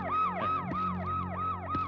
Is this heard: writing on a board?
no